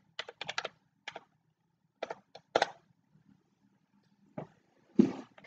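Keystrokes on a computer keyboard come in short, close clusters with pauses between them, ending in a couple of louder final taps, as if entering a web address.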